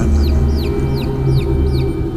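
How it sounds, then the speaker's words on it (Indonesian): Chicks peep in a run of quick, high, falling cheeps, about five in a row, over a steady low hum. "terdengar suara anak ayam yang jelas"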